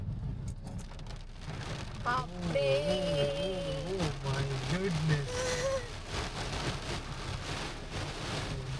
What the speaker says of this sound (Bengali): বৃষ্টি চলে এলো